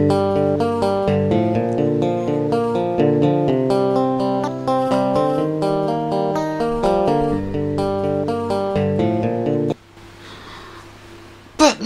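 Sampled electric guitar in a tracker, buzzy notes each preceded by a small pick click, playing a busy melodic run that stops near the end, followed by a brief noisy tail.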